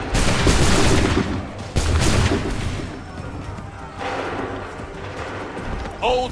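Musket volleys in Assassin's Creed 3 crack out in two heavy, loud bursts early on, each trailing into rumbling echo, then a softer burst later, with a brief shout near the end.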